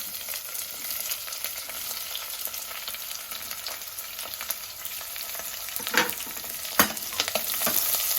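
Green chilies, curry leaves and onion frying in oil in a pan for a brinjal tomato gravy curry, giving a steady close sizzle with occasional louder pops and stirring scrapes.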